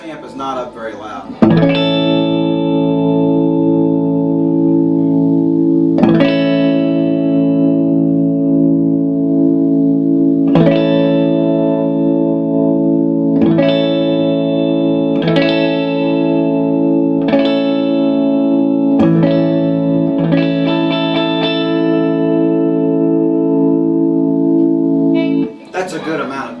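Agile electric guitar fitted with GFS pickups played through a distorted amp at modest volume: a sustained ringing chord with rich harmonics is repeatedly re-struck at slow irregular intervals, loud and steady, with no speech.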